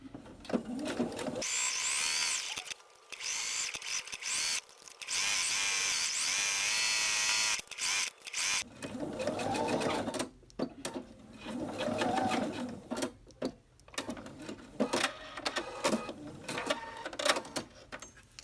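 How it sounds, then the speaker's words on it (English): A sewing machine stitches around the seam of a fabric belt bag at a quarter-inch seam allowance. The motor whirs in steady runs broken by short pauses, with a person talking in places. "so that I could stitch all the way around and stop on the bottom left side of my outer piece"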